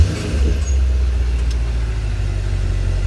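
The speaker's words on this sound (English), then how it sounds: "I'm going to show you the normal mode just now, without pulling anything, just starting up." Mercedes-AMG GT 63 S engine started in normal mode, a steady low idle rumble that settles right after start-up, heard close and alone without talk.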